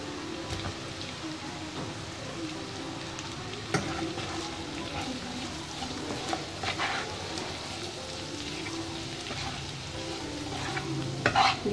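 Potatoes frying in masala for dosa filling, stirred steadily in the pan, a continuous crackling sizzle with scraping stirs and a few sharper clatters, no talking.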